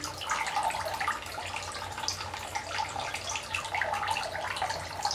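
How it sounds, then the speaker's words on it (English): Water pours steadily out of the cooling water jacket on a water-cooled Traxxas Slash 4x4 RC car, a continuous splashing trickle with small bubbly spatters, fairly close and with no talk. "I'm definitely happy with the new amount of flow out of the water jacket here."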